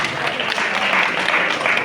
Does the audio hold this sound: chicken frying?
no